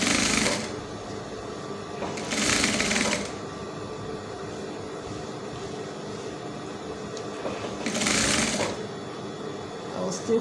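A sewing machine runs permanent stitches on a baby's ball dress in close, steady whirring bursts, loud and mechanical, with pauses where fabric is adjusted and a faint voice in between.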